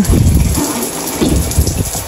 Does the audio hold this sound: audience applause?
no